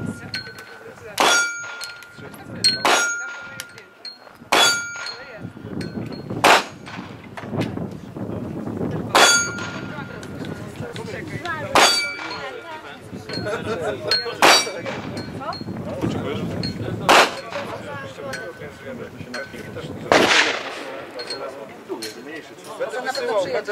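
Gunshots at the ATUT shooting range in Mochnaczka Wyżna, fired in a slow irregular series of sharp cracks with metallic clangs from steel targets, moderately distant, while people chat nearby throughout.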